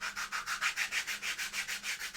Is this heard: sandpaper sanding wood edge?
yes